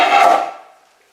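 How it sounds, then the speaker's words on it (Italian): A cooking pot falls with a single loud, close clatter that rings out and fades within about a second. "è caduta la pentola."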